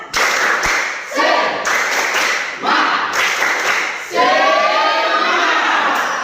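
A group of high school students in a classroom claps hands together in bursts, loud and close, with voices mixed in.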